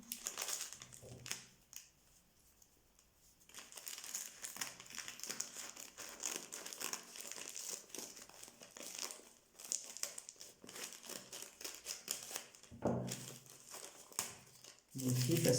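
Autumn-patterned wrapping paper crumples and crinkles close up as a gift is unwrapped, bursts of crackling separated by brief quiet pauses, with a voice talking over parts of it.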